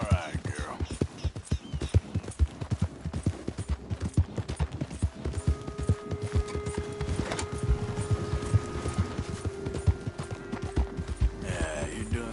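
Rhythmic hoof clip-clop from a horse galloping in Red Dead Redemption 2 runs steadily throughout at moderate volume, with a few faint background sounds and no voices over it.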